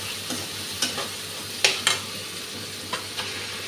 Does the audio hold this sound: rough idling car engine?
no